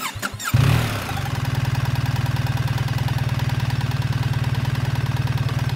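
A BMW R1300GSA motorcycle engine cranks briefly, catches with a burst, then settles into a steady, loud, rhythmic idle close by.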